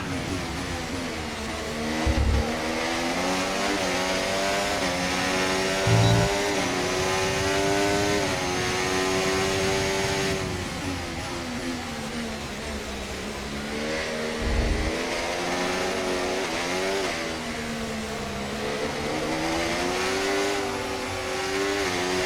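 Formula 1 race car engines scream in F1 24 on the final lap of the Australian Grand Prix. A close, loud engine whine rises and falls through gear shifts, with occasional thumps and no talking.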